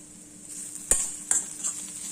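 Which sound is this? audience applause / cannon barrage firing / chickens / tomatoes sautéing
tomatoes sautéing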